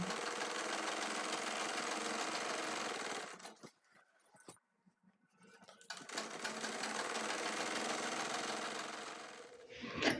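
Sewing machine running a seam on a six-panel petticoat: a steady, close whirring stitch drone that stops for a short quiet pause with small handling clicks, then resumes continuously, with no talk.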